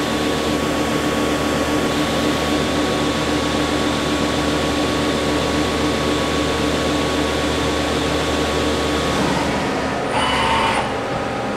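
A 1995 Okuma Cadet L-1440 two-axis slant bed CNC turning center runs with a loud, steady mechanical hum and whine, shifting near the end to a brief higher hiss.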